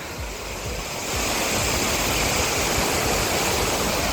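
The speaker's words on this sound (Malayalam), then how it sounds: "നല്ല ഫോഴ്സിലാണ് വെള്ളത്തിന്റെ വരവ് ശബ്ദം കേട്ടോ" Loud, continuous roar of rushing water from a nearby waterfall, swelling a little stronger after the first second and holding steady.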